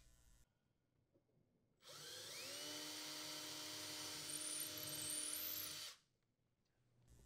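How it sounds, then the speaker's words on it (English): A power drill with a 1/8 inch bit whirs steadily for about four seconds with a rising whine, close by, then stops; quiet room before and after. "Using a 1/8 inch diameter drill bit, drill the holes where marked."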